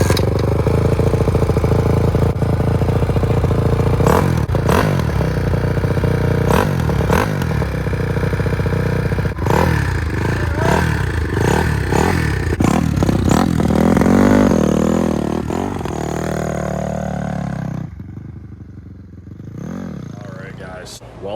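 Honda CRF450R big-wheel motocross bike on a dirt track, engine revving hard in repeated bursts with clattering and shifting, loud and close, fading toward the end, with talking over parts of it.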